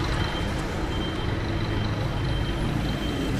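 At a busy bus station, buses and trucks idle and pass, forming a dense, loud, steady engine and traffic rumble with no clear voices.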